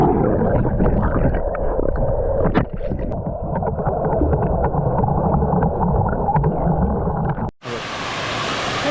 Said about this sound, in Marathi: आम्ही धबधब्यावरती आलेले आहे